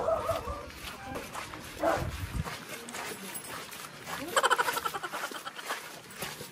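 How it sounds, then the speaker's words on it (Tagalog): A dog barks a few times at a distance while people talk nearby, with footsteps and outdoor movement. "May aso."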